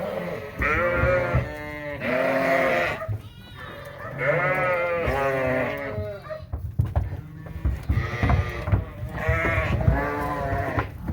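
Sheep and lambs on a farm bleat loudly and repeatedly, several calls overlapping close by, while a person talks and calls to the flock between them.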